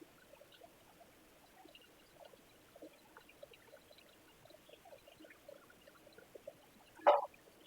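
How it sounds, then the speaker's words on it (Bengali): Mustard oil poured into a pan for vegetable bhaji, a quiet light trickling with small liquid patters, ending in a brief louder splash or clink, without talk. "আমি সরিষার তেল দিয়ে দিব"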